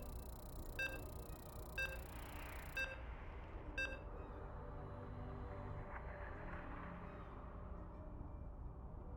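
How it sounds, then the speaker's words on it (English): Four evenly spaced electronic loading beeps from StarCraft 2 in a King of the Hill tournament match ring out about a second apart over a steady background rumble, then give way to continuous low noise. "As you can hear the beeps, we're loading in."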